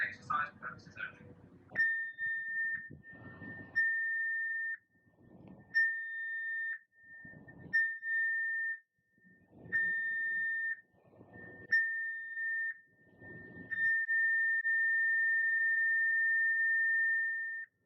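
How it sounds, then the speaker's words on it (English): Cruise ship alarm blasts for a passenger safety exercise: a steady electronic tone sounds in repeated short bursts, then one long continuous blast, with someone talking between and under the signals. "The ship's alarms are about to be sounded for passenger exercise purposes only."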